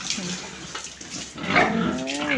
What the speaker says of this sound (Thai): หมูหมูนะ เย็น อารมณ์ดีเนาะได้อาบน้ำปุนนะ